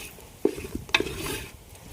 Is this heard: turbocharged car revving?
no